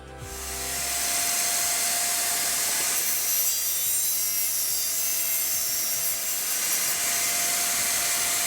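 A power saw on a table saw whines steadily as it cuts through a vinyl floor tile, a loud continuous grinding rasp with no pauses.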